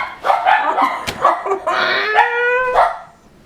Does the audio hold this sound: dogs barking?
yes